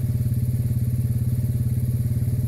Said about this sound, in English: You can hear my ATV running in the background.